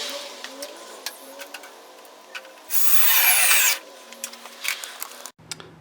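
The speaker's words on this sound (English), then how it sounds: "now I'm going to take and attach it with the leg screws up to this" A power driver sinks lag screws into a wooden rafter while a garage door opener's mounting brackets are fastened, one loud sustained whir of about a second among quieter handling knocks, with a voice heard briefly.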